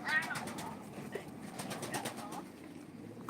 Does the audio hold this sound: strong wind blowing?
no